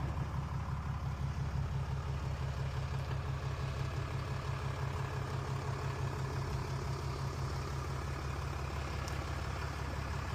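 A fifth-generation Ram pickup truck sits idling, its engine giving a steady, low, even rumble that continues unchanged throughout.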